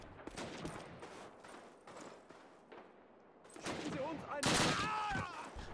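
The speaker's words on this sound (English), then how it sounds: "I walked in and he shot me" Gunfire in a Call of Duty video game: scattered shots, then a dense, loud burst of rapid firing near the end, with a voice talking between the shots.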